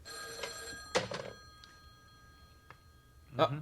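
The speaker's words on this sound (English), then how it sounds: "Answer your phone." A telephone rings with bright, trilling bursts, the first near the start, another strong one after about a second and a last one near the end, faint to moderate, with people talking between rings.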